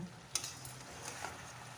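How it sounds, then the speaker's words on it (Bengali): Malabar spinach and potatoes sizzle softly in a pan while a spatula stirs them, giving a faint, steady frying hiss broken by a sharp scrape and a few light ticks. "এবার ভালো করে আমি এগুলোকে আবার একটু নাড়িয়ে চাড়িয়ে নেব"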